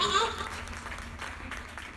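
A conference audience applauds, the clapping loudest at first and then thinning into a fainter spatter of hands, with some chatter mixed in.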